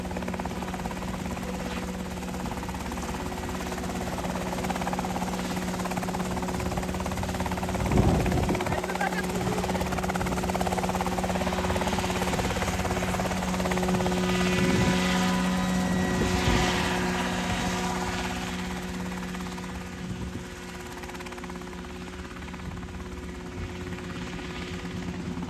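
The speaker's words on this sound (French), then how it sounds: "c'est le domaine de vol de l'hélico quoi, par excellence" A helicopter flies steadily with a continuous rotor and engine drone, holding loud and near for most of the stretch before easing slightly toward the end.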